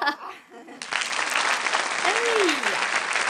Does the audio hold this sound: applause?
yes